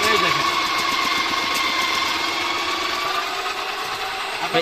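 A Niyama food processor slicing cucumbers gives a steady, loud motor whir that runs continuously without a break, with someone talking over it.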